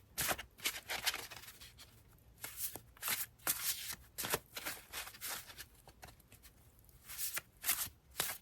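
Tarot cards shuffled by hand over a long stretch, repeated crisp riffling bursts and soft slides in an uneven rhythm, close and fairly quiet, with no voices.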